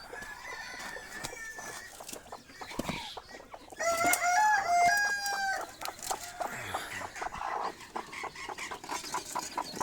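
A brooding hen hatching chicks in summer clucks and calls, with a sharp burst of loud, rising calls near the middle and softer scattered clucks before and after, close by.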